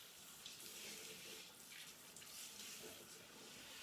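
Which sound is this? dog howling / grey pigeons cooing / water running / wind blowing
water running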